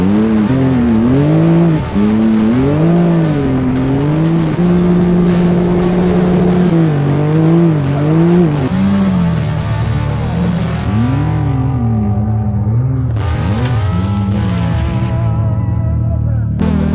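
A vehicle towing a big trailer on a washboard dirt road. The engine note rises and falls loudly and continuously over a low road rumble, nearby and unbroken for the whole stretch.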